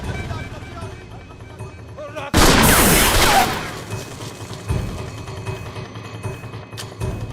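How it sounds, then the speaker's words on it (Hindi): A sudden loud burst of gunfire erupts in a Punjabi comedy film scene, a sharp blast-like crack followed by a fading rumble, over background chatter and voices. "भाई जी, ये बंदूक चलती है"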